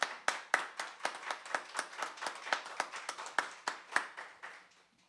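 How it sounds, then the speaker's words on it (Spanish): Scattered applause from a small audience at a book launch for a poetry collection following a theatre competition announcement, a handful of people clapping in uneven, distinct claps for about five seconds before fading out. "Bueno, un aplauso por favor."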